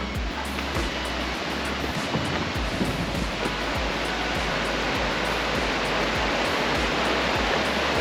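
The river waterfall at Llanberis makes a steady, close, rushing roar of falling water. It stays loud and unbroken throughout, with occasional low thumps underneath.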